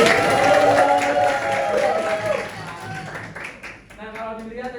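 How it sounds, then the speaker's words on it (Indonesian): A school history class claps hands in a loose burst of clapping with some chatter and voices mixed in, fading after a few seconds as a teacher's voice and room noise take over. "Tepuk tangan."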